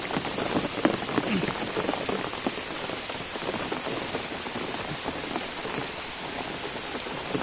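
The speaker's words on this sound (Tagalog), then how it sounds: "Grabe talaga ng ulan ngayon, hindi natin talaga ito inaasahan." Heavy rain pours steadily through a forest during a typhoon, a dense continuous hiss of drops on leaves and surfaces, loud and close, with no voices.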